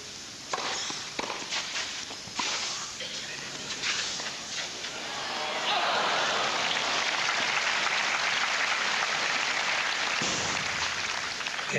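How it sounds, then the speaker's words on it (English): Muted, moderate applause from a tennis crowd at a 1998 Gstaad match, beginning as scattered claps and swelling into a steady, dense wash of clapping that holds for several seconds before easing. "Slightly muted applause there"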